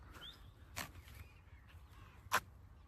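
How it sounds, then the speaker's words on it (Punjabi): Faint morning bird calls over quiet, foggy open-air farmland in Punjab, with a couple of short sharp crow-like caws standing out. "ਆਵਾਜ਼ਾਂ ਸੁਣਦੀਆਂ ਨੇ ਤੁਹਾਨੂੰ ਪੰਛੀਆਂ ਦੀਆਂ"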